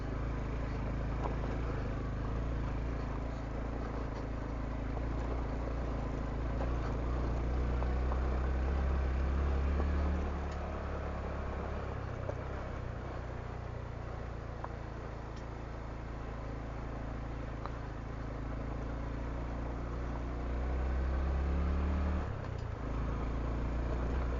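A Honda Trail 125 (CT125) motorcycle engine labours up a hill with a steady, droning hum that swells and eases slightly as the throttle changes. The sound is continuous and close, with no voices.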